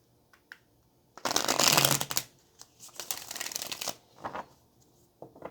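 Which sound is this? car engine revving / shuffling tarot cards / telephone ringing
shuffling tarot cards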